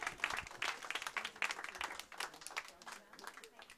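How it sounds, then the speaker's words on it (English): Scattered, fairly faint clapping from a small audience at a National Poetry Day event in a Nottingham library, uneven bursts that thin out toward the end. "Give her an extra round of applause, please."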